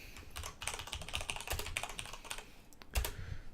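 Rapid typing on a computer keyboard during a live-streamed Creation Kit modding session, the keys clattering in quick irregular bursts with a couple of louder taps, close up and with no talk.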